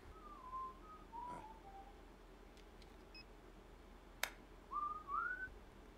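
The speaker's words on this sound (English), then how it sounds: "What was the song about that whistle?" Someone whistles a short melodic tune in clear rising and falling phrases, with gaps between them and a sharp click partway through, fairly quiet over a faint background hiss.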